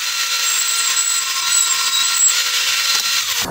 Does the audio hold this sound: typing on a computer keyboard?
no